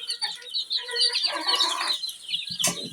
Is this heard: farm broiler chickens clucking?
yes